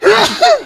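One loud, close sneeze in a quiet indoor setting, a voiced two-part burst with a breathy rush between its parts.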